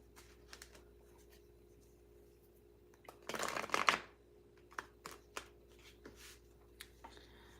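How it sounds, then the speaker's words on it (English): Tarot cards being shuffled by hand: scattered soft flicks and taps, then a dense, loud riffling burst lasting about a second, followed by more sporadic light card clicks in a quiet room, with no voice. "as I'm shuffling these cards"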